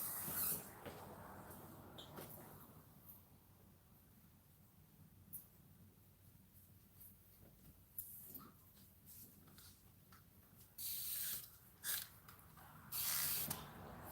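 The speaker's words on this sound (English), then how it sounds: "I just spray a little bit more of the water on the hair" Several short hissing bursts from a spray bottle misting water onto thick long hair during detangling, scattered across a quiet stretch with faint handling noise, the last few louder and closer.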